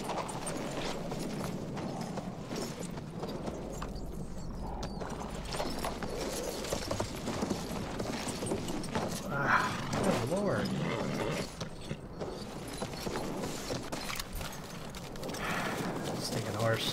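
Horse galloping in the video game Battlefield 1, a steady clip-clop of hooves and rattling tack running throughout under a player's frequent talk and game noise.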